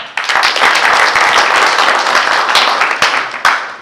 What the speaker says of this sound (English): Let us give Moba a better clap.